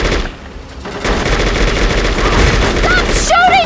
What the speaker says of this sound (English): Stop shooting at us!